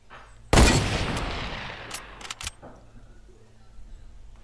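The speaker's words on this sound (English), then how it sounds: "Where are those gunshots?" A sharp video game gunshot burst in Fortnite rings out and decays, followed by a few quieter cracks, with no talking.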